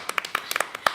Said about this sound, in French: je crois qu'on peut l'applaudir, effectivement